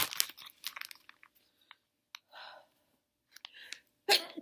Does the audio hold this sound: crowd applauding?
no